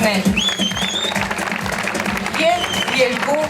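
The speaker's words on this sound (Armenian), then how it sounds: "Բուրըն ծափահարություններ մեր բոլոր շրջանավարտներին" Applause from a music school graduation audience fills the room as continuous, moderately loud clapping while a voice speaks over a microphone.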